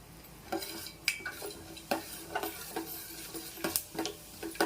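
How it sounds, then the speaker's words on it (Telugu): Cumin and mustard seeds sputter in a little hot oil, with sharp, irregular pops and crackles standing out over a quiet, low sizzle, heard close and without talk. "జీలకర్ర ఇవన్నీ చిట్పట్లు ఆడిన తర్వాత"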